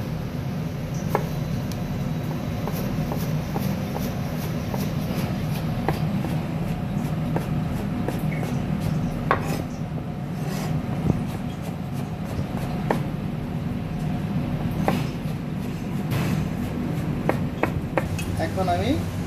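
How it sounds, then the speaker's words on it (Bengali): Eggplant being sliced into thin strips with a knife, rapid repeated tapping of the blade on a board throughout, under a steady background hum and someone speaking. "তারপরে আমি ঠিক এভাবে চিকন করে পাতলা করে কেটে নিব।"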